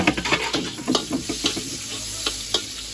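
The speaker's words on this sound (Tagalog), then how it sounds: "i-saute lang natin siya for a couple of minutes" Wild mushrooms sautéing in a hot pan give a steady, close sizzle, with repeated scraping taps as they are stirred around.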